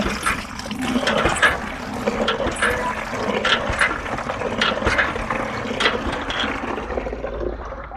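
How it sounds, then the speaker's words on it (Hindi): Water gushes into a bucket for rinsing a cloth, a continuous splashing fill with clinking and rattling from the tap or bucket, close and moderately loud, easing off near the end. "तीसरी मर्तबा फिर हम पानी भरेंगे पाक इसी बाल्टी के अंदर"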